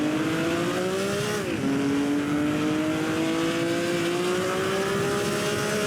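A 1950 Ferrari race car accelerating from a Grand Prix start at Pau, its engine a loud continuous drone that climbs in pitch, dips briefly at a gear change and then rises steadily again. No voices.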